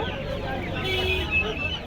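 Chickens cluck at a busy poultry market, with roosters, turkeys, Silkies and Kadaknath birds for sale; steady overlapping clucks over crowd murmur, with people talking nearby.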